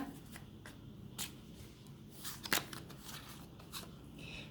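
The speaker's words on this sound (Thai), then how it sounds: "ดูไพ่ของ Romance Angel กันหน่อยนะคะ" Romance Angel oracle cards being shuffled by hand, with a few soft, irregular riffles and snaps over low room noise, close up and fairly quiet.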